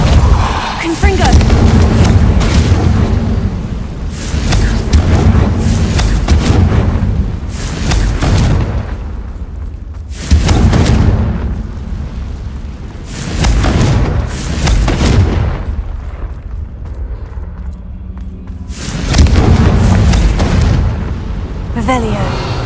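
Confringo blasting spells explode in a Harry Potter video game, a run of loud, deep booming bursts every few seconds, each swelling and fading over a rumbling game soundscape.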